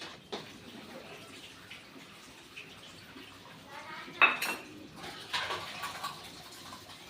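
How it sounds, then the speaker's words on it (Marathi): Kitchen utensils being scrubbed and washed in a small home kitchen, with faint soft scrubbing and a few light metallic clinks of pots and dishes, loudest around the middle. "पटकन हे भांडे घासून घेते."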